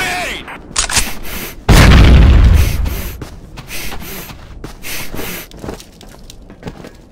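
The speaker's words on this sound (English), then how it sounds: "Grenade!" Grenade explosion in the shooter Combat Arms: a sudden loud blast at about a second and a half with heavy rumbling low end that decays over a second, surrounded by scattered gunshots and clicks.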